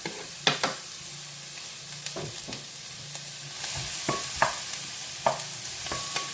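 Ginger and onion going into a frying pan, a steady sizzle of frying with repeated clinks and scrapes of stirring, close and clear with no talk.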